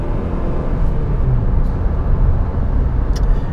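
A 2005 Honda Accord driving through a corner, heard from inside the cabin as a loud steady low engine and road rumble with no voices.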